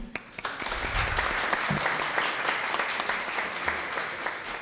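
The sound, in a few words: audience applause for the deputy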